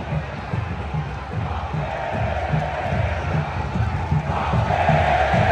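Palmeiras supporters chanting in a packed football stadium during the Copa São Paulo de Futebol Júnior final, a steady, rhythmic roar of massed voices that grows louder toward the end.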